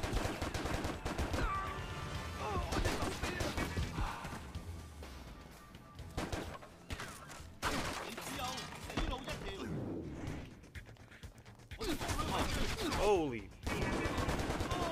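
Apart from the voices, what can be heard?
gunfire from a video game (John Woo's Stranglehold)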